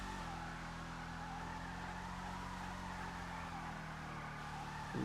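A Greenwood car in GTA Online turns and accelerates, producing a continuous steady engine drone with faint tire noise that stays even throughout at moderate level. No one speaks.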